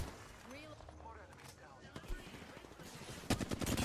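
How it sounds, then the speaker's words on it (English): Distant bursts of gunfire in the battle-royale shooter Apex Legends, crackling faintly under a player's commentary and growing louder and denser toward the end. "Nice shots on the Gibby right there."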